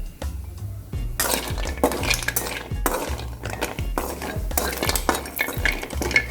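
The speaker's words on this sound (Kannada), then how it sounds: "ಮ್ಯಾಲೆ ಸ್ವಲ್ಪ ಎಣ್ಣೆ ಹಾಕೋತೀವಿ. ಒಂದೀಗ ಚಂದಾಗಿ ಹುರ್ಕೊಳ್ತೀವಿ." Masala frying in oil in a pan, heard as close crackling sizzle with repeated metallic scrapes and clinks as a spoon stirs it in uneven strokes.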